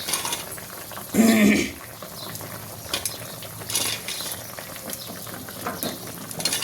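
Fried lentil dumplings (dhoka) dropped into a simmering curry for dhokar dalna, with a loud sizzling burst at first, then a steady frying hiss and occasional stirring clinks of a utensil on the pan.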